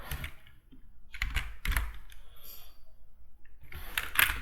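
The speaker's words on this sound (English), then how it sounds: "So you can type" Typing on a computer keyboard produces bursts of quick close key clicks with brief pauses between them, while a voice talks faintly underneath.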